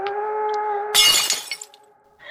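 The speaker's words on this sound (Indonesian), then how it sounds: "Tiba-tiba terdengar suara kaca terjatuh dari arah dapur." Glass drops and shatters in a kitchen, a sharp bright crash with scattered tinkling fragments that trail off, following a steady electronic hum and a faint high tone beforehand.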